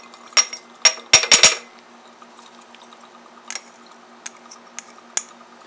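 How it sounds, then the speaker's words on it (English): Metal salt tipped into a stirred glass flask in a chemistry lab: a quick cluster of sharp glassy clinks and pours, then sparse lighter ticks over a faint steady hum. "and in goes the salt"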